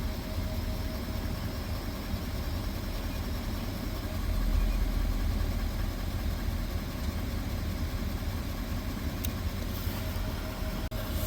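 Powerstroke diesel truck engine with a high idle kit, running steadily and close, with a broad low rumble that swells slightly around the middle as the idle climbs, then holds a constant drone.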